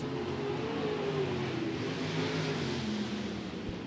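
Sprint cars race on a dirt track at El Paso County Raceway, a loud, continuous engine roar with slow pitch sweeps as cars accelerate past, heard at a distance with no talk.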